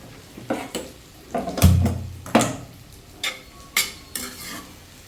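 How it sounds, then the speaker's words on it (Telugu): A spoon stirs tamarind pulp and salt into a jackfruit curry in a pan, making a few separate scraping, clanking strokes against the metal with a brief sizzle, close and fairly loud, with no talking. "చింతపండు గుజ్జేసాను కొద్దిగా ఉప్పు కూడా వేసాను వేసి రెండు కొంచెం కలిపేస్తున్నాం"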